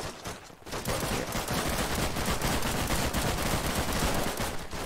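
An MP40 submachine gun fires in the Warfare 1944 game, a fast, continuous stream of loud shots after a short pause, close and unbroken by speech.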